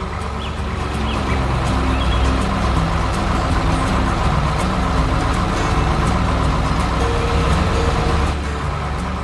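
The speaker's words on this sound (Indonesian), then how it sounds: "Sekarang, coba perhatikan dua traktor yang mulai bekerja di ladang." Two animated tractors working a field, a steady loud engine drone with layered rumbling tones running continuously, alongside clucking farmyard fowl.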